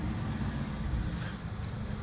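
Steady low rumble of road traffic from cars and trucks, a continuous broadband wash with a brief louder swell of a passing vehicle midway.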